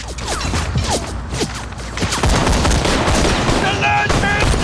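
A Korean War drama battle with mortar and machine gun fire in a forest ambush: sharp bursts and whooshing sweeps at first, then a loud, continuous barrage of overlapping gunfire and blasts through the second half.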